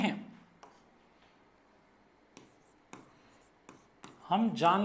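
Chalk or marker scratching across a board during a physics lesson, in short separate strokes with pauses between them, close by, and a voice speaking briefly at the end.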